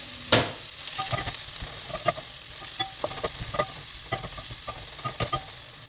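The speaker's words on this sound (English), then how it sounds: "Once the skillet is nice and hot, we're just going to add in our veggies and just saute those" Veggies sauté in a hot skillet with a soft, continuous sizzle, punctuated by repeated sharp scrapes and taps of a utensil stirring them, close by.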